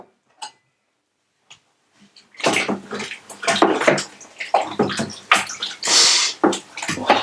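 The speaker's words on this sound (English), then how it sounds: "Give those a stir in" Elderflowers being stirred into dissolved sugar water for homemade wine, a few faint taps at first and then a steady, loud swirling and sloshing of liquid in a pot or bucket that runs on without break.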